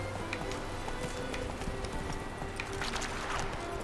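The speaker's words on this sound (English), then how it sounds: "Summonar meu cavalo, né?" A summoned horse gallops in The Witcher 3, its soft rhythmic hoofbeats running quietly under steady ambient game noise.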